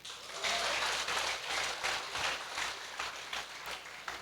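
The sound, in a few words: congregation applauding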